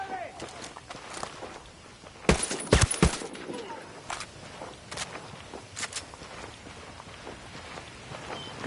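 Gunfire in the Ghost Recon Wildlands video game: a dense cluster of sharp shots bursts out in the middle of the clip, with a few scattered single shots afterward over ambient game noise and brief voice chatter.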